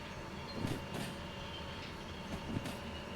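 A locomotive rolls along the track in the Derail Valley train game, a steady low rumble with a few soft rhythmic clunks of wheels over rail joints, continuous and moderately distant with no talking.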